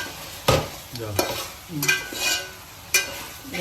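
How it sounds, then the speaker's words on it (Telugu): Chicken frying in a pan is stirred, with several distinct scraping strokes against the metal over a steady sizzle, close and clear, with no talking. "ఒకసారి దీన్ని కలుపుకుందాం"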